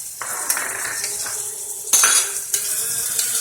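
A spoon scrapes and clinks against a pan while chicken and sausage are stirred in a heavy cream sauce, with a few sharp metallic knocks over a soft, steady sizzle, close up and with no talking.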